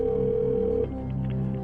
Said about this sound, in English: let's get Chuck Yeager on the phone